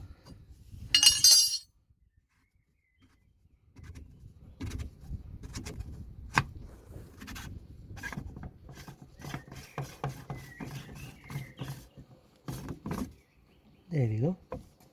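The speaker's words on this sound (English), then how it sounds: "now we're gonna undo the filter" A spanner undoes the diesel fuel filter housing on a Vauxhall Insignia with sharp metallic clinks and ratcheting clicks, scattered and irregular, mixed with someone talking.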